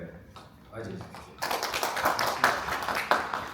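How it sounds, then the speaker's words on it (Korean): An audience at a Korean medical panel event breaks into applause after a quiet start, with brisk clapping continuing under an announcer's voice. "박수로 맞이해주십시오"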